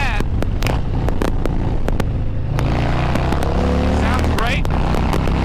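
A Harley-Davidson Road King motorcycle engine rumbles loudly and steadily while riding fast through city traffic and lane splitting, with wind buffeting and passing clicks over the deep drone.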